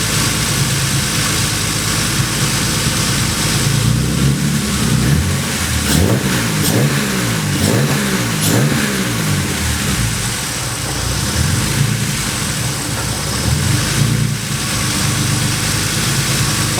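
A BMW 635csi engine on an ECUmaster tune idles loudly up close and is blipped several times in the middle, rising and falling in short revs before settling back to a rough, steady idle.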